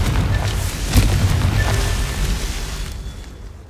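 A booming fire-spell blast from Hogwarts Legacy rolls out loud and close, then a crackling, rumbling tail slowly fades over a few seconds.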